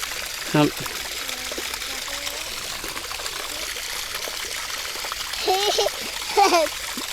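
A cheap solar-powered water pump under test sprays water in a continuous splashing, trickling stream, with brief voices breaking in near the start and again toward the end.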